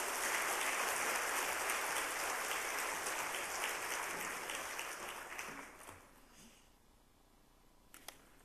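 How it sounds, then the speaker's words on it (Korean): A church congregation at a Wednesday worship service applauds to welcome a pastor to the pulpit, a dense wash of clapping that holds steady for several seconds and then thins and fades out. "우리 박수로 목사님 환영하겠습니다"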